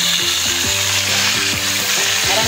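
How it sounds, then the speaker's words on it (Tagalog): Pork steak frying in a pan, a loud steady sizzle and crackle filling the whole stretch, close up and continuous with no talking. "Ipiprito-prito ko muna konti."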